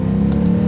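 An E92 BMW M3's V8 engine hums loudly and close from inside the cabin, a steady low drone with a brief rise in the middle, heard alone.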